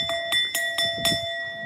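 A small antique bell of the kind shown among old Chinese ceramics and wooden pieces, tapped several times in an uneven rhythm, each strike ringing with steady sustained tones, close and fairly clear.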